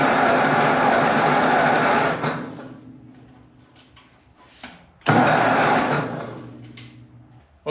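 A Ford 8N tractor engine cranks over loudly for about two seconds, stops, then cranks again in a second sustained burst, with a quieter lull between the two attempts.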